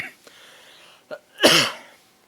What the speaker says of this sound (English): I am really sorry for my coughing today.